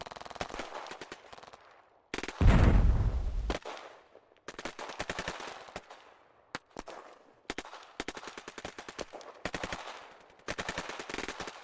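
Sustained machine-gun fire in a combat barrage against an armored personnel carrier, rapid bursts of shots with one loud booming blast early on, dense and continuous at mid distance.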